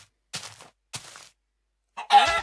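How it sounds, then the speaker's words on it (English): Chickens in the video game Minecraft give a few short, soft clucks spaced apart, then a louder, longer squawk at the end. "Stay away, chickens."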